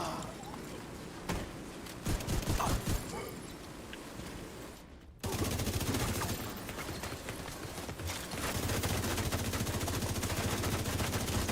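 Minigun fire roars in a video game, sputtering at first, then settling after a sudden cut into a dense, sustained mechanical rattle. Voices can be heard underneath.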